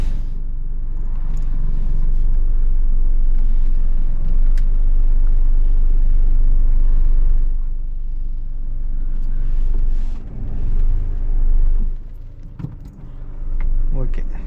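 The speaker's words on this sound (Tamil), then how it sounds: "ஓகே, காருங்க வந்துட்டுருக்கு." Cars pass on a road heard from inside a stopped car during a U-turn driving lesson, a steady, loud rumbling wash of traffic and engine noise with brief jangling rattles throughout.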